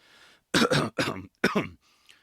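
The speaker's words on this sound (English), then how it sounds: "Cough, cough." Three short, harsh throat bursts in quick succession, like a deliberate forced cough or throat-clearing, close and fairly loud.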